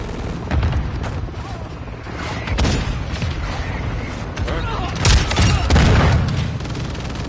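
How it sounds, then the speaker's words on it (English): Mortar strike explosions in the video game Modern Warfare 2, with heavy booming blasts at about 1, 2.7 and 5–6 seconds over continuous rumbling gunfire and battle noise, loud and dense throughout. "Hostile mortar strike in the area."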